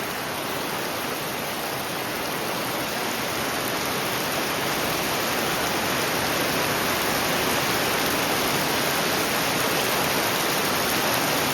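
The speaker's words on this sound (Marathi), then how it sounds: "जबरदस्त पावसाने जोर वाढवलाय परत." Heavy monsoon rain pours down steadily in a Konkan village, a loud, dense and unbroken hiss with no pauses and no voices.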